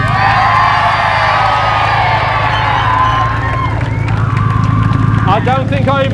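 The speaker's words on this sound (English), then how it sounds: "And if you thought the Supra sounded best," A large outdoor crowd at the Beaulieu Supercar Weekend sound-off cheers and whoops loudly and continuously, a dense roar of voices with shrill whistles and yells rising toward the end.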